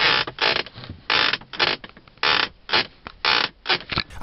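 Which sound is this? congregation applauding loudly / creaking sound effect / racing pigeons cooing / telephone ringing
creaking sound effect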